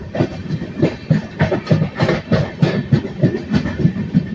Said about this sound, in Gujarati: વિરમગામ પછી ટ્રેન થોડી ધીમી પડી ગઈ છે.